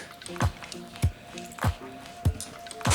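Soft, wet squishing of water-damaged kitchen wall material being pressed and pulled apart by hand during demolition, in about five separate squelches at a steady pace, close and moderately loud.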